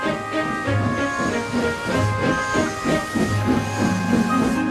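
A cartoon steam locomotive huffs rhythmically, hissing steam in repeated chuffs with a faint whistle-like tone, loud and close, no voices.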